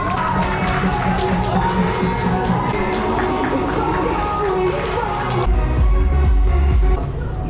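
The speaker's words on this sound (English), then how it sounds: "give her a round of applause" A crowd at a dance competition prize ceremony during an international trade fair cheers and applauds loudly and continuously, a dense hubbub of claps and whoops that swells near the end.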